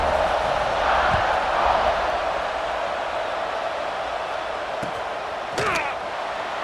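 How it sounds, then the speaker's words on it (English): Stadium crowd noise in EA Sports College Football 26, a steady broad roar of fans buzzing after a score ahead of a kickoff, with a few brief thuds and a short whistle-like sweep near the end. "this crowd is buzzing after that last score"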